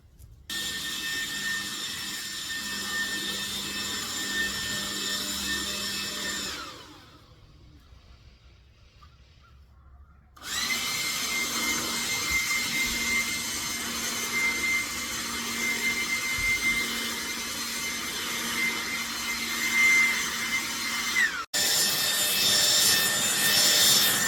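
Ryobi RY40403 40V cordless leaf blower blowing leaves: a loud steady whining roar that drops out for a few seconds, then returns at full strength and briefly surges higher near the end, close by.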